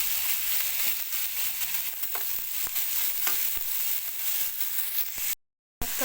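Alexandrian sausage hits a very hot pan alongside sliced onions, giving a loud, steady sizzle and frying hiss broken by scraping stirs, then cutting off abruptly near the end.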